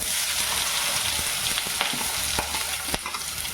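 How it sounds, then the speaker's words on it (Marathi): Green chilli and onion sizzle in hot oil with a constant dense crackle, broken now and then by sharp clicks of stirring, close up and continuous with no talking. "आता आपला तेल गरम झालाय मिरची टाकू मिरची टाकल्याच्या नंतर कांदा टाकू"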